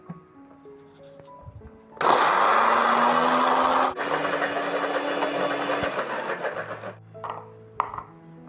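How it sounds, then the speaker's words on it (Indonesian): Blender loudly grinding kitchen scraps into a fine mash for homemade orchid fertilizer, a steady whirring roar that starts abruptly, shifts pitch partway, then stops, followed by a few short clattering bursts. "Caranya boleh di blender ataupun ditumbuk, yang penting dihaluskan agar lebih cepat itunya proses fermentasinya."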